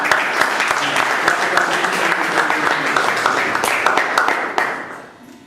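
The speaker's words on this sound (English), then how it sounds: "A big round of applause to." Steady applause from a roomful of people, dense clapping that carries for several seconds before tapering off at the end.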